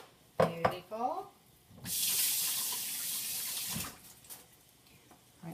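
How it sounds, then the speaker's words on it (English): Water runs from a tap in a steady hiss for about two seconds, close by, after a brief murmur of a voice. "Rinse my hands off."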